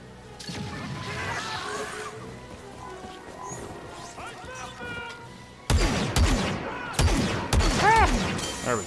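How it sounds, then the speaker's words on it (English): Blaster fire in a Star Wars Battlefront II battle, scattered zapping shots under game voices, then louder, denser volleys of blasts in the second half. "I don't like it when people shoot at me."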